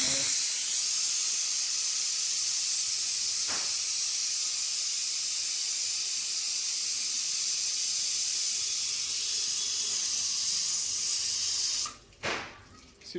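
A pressure cooker cooking potato curry with the peel on lets out a long, loud, continuous steam hiss that holds steady for many seconds before cutting off abruptly near the end.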